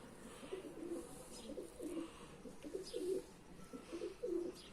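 Pigeons kept by a fancier coo repeatedly in a soft, low, rhythmic series of close calls, about six coos over a few seconds with faint background ambience and no talking.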